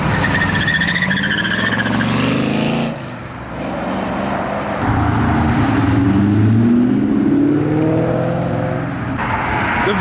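Fast cars leave a car meet, roaring as they accelerate hard with rising engine revs and tire squeal, loud and close, one engine note climbing after another.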